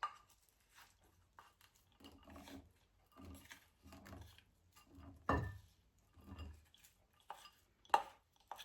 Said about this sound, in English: the final step is to stir in the mixed fruit